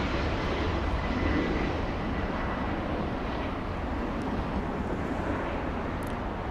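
Southwest Airlines jet at LAX, a loud, steady, broadband engine roar that fills the scene continuously, with no pauses or voices.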